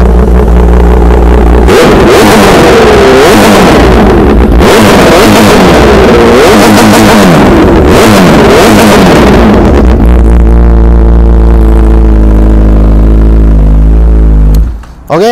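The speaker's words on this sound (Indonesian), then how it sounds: "CBR1000RR SC Project bunyi macam mana" A loud 2011 Honda CBR1000RR Repsol motorcycle engine with an SC Project exhaust revs repeatedly in sharp bursts, then settles into a rough idle before cutting off at the end.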